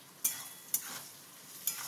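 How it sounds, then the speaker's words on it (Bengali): Chopped tomato sizzles softly in a pan of frying chili chicken, with three sharp stirring scrapes at irregular intervals over a faint steady hiss. "এবার আমি এটাতে টমেটো কুচিটা দিয়ে দিলাম"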